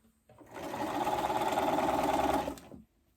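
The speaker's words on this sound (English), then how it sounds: "we're gonna continue to top stitch and sew along the edge of the binding" A domestic sewing machine top stitching along the edge of a garment binding for a romper runs in one steady, close whirring burst of about two and a half seconds, starting and stopping cleanly with no talk.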